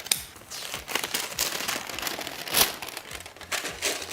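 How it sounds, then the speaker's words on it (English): Baking paper for lining a cheesecake pan, folded several times and then cut, a close, dense run of crinkling and crackling with sharp snips, and no talk. "I'm just going to fold it several times, and then estimate the center and just cut, cut, cut"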